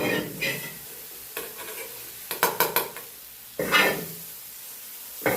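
Jalebi made from horse gram flour fries in hot oil. Stirring clatters and scrapes sound over a continuous sizzle as the pieces are lifted out.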